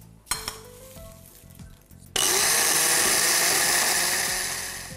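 Curry powder spices roasting in a hot pan for a dark Sri Lankan curry powder, first quiet stirring and light clatter, then a sudden loud, steady sizzle that fills the rest of the clip, close and continuous with no talk.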